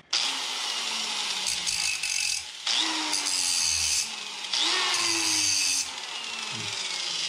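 A slotter power tool cutting wood, used in place of a grinder: three loud, sustained whining cuts separated by brief pauses, each with a pitch that drops slightly under load, close and without talk.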